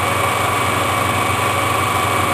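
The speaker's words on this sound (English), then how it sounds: "right now I'm switching out my drill bit for a center drill, and swing that in close" A small metal lathe runs while a center drill bores a starter hole in a part for a miniature woodstove. The motor gives a steady, even hum with no talking.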